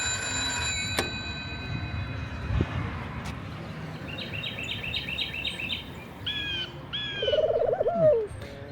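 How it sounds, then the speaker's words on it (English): Recorded calls of local Takoma Park bird species play through a payphone handset: a ring-like tone first, then repeated chirping phrases and a warbling call, thin and phone-filtered over low background hum. "Each number corresponds to bird calls from species local to Tacoma Park"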